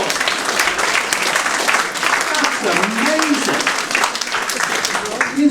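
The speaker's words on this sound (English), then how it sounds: "Give her a round of applause!" Audience applause at a live stand-up comedy show, a full room clapping steadily and loudly after a quiz answer, with a voice calling out over the crowd near the end.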